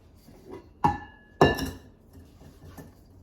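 A utensil scrapes and knocks against a mixing bowl of pineapple, coconut and pecan cake batter, two distinct clanks followed by lighter taps, close and otherwise quiet.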